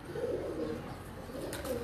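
Soft, low cooing from a breeder pigeon at a fancier's loft, a couple of murmuring phrases at close range over a steady background hum.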